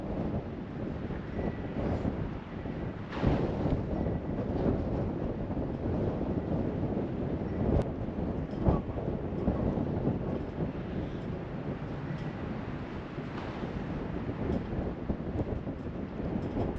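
Wind blows steadily across an open disc golf field, a continuous rough rumble and buffeting against the microphone with occasional gusts.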